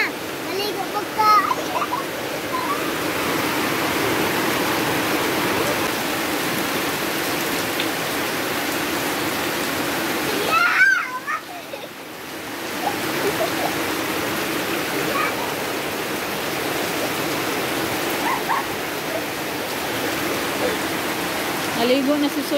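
Heavy rain pours steadily and loudly throughout, with a brief lull midway before the downpour resumes, splashing and hissing.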